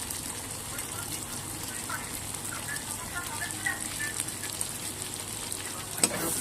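Chicken filling for an egg chicken roll sizzles and crackles in a hot pan at a low, steady level, with a brief sharp clatter near the end as it is stirred.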